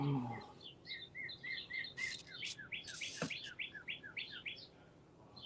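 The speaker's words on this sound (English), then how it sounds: "You hear the birds." Small birds chirp and trill outdoors among pine trees in spring, a quick run of high tweets at moderate distance, with a brief knock or thump partway through and no talk.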